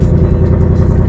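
Ford S550 Mustang V8 running right after startup, a loud close steady low engine rumble with a throbbing idle and no voices.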